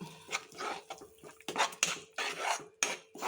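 Cashew nut paste, soaked and ground, is poured into an okra curry and stirred, with close spoon-against-pot scrapes and clinks coming in quick irregular strokes and no speech.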